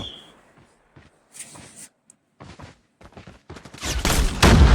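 Gunfire from a shooting video game arrives in scattered short bursts, quiet at first and then building into loud, dense rapid fire near the end.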